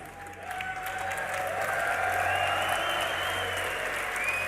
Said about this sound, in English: Give us a cheer, guys.